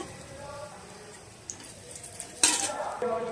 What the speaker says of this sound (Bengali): এবার আমি এখানে বড়িটা ভেজে নেব